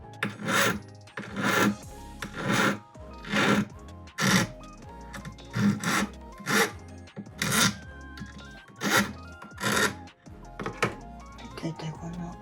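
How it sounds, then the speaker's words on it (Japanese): Metal file rasping a new cutting edge onto a steel wax-modeling spatula, roughly a dozen rhythmic strokes close up, each a bright scraping burst with short pauses between. "刃をつけていきましょう。"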